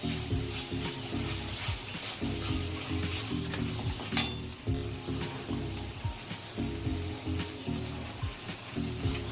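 Turmeric and chili frying in hot oil for a brinjal dish, a continuous close sizzle with a spatula repeatedly scraping and stirring in a steady rhythm, and a sharp clink partway through.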